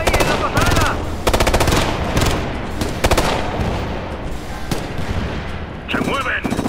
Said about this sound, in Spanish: ¡Ametralladora!